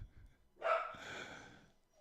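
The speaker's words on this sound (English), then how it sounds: "He'll just keep barking" A single close dog bark rings out sharply after a brief quiet moment, then trails off into a short echoing tail inside a room.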